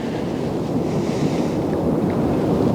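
Wind blowing across Lindley Wood Reservoir during pole fishing, a loud steady rushing buffet against the microphone with a low rumble and no talking.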